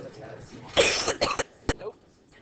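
Several sharp coughs in a quick burst from a teacher during a classroom lesson, loud and close, followed by a couple more isolated coughs.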